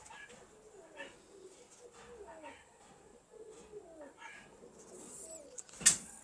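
A prized pigeon coos in soft, repeated low rolling calls, fairly close, with faint background voices and a sharp knock near the end.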